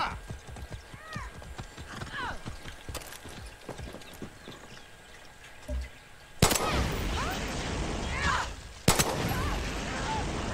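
Horse hooves clip-clop in Far Cry 6, steady and near at first, then loud bursts of gunfire and rushing noise take over the second half.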